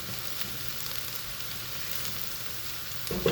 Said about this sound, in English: Our vegetables are just now starting to get a little bit of a toasty brown color on them,